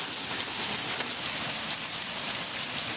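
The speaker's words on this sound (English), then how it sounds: "It's hailing again." Hail falling during a severe thunderstorm, a dense, continuous hiss and patter of ice striking surfaces, steady and enveloping with no pause.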